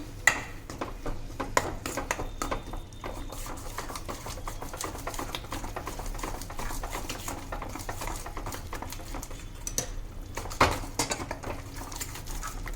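Oro, a roasted eggplant mash, is stirred in a pan, producing a steady stream of soft clicks, scrapes and pattering taps across the whole stretch at low volume.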